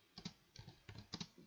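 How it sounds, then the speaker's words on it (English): Quiet, close keystrokes on a computer keyboard in short clusters of three or four taps, with small gaps between bursts. "I'm going to type welcome"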